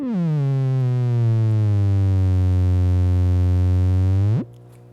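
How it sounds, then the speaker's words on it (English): Feedback loop through a Peavey MD 16x6 mixer and Rat distortion pedal, a loud sustained buzzy drone that falls slightly in pitch, holds for several seconds, then sweeps upward and cuts off abruptly. "I can then feed this signal here, which is going into the rat pedal, therefore creating a feedback loop"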